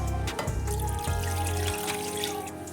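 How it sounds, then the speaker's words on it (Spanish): Water is poured from a container into a pot of chicken simmering in coconut milk and curry, a close, steady trickling splash that slows and thins toward the end. "Voy a incorporar también el agua."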